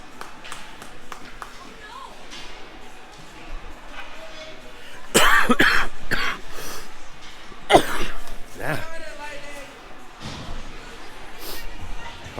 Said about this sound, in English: Pardon the coughs.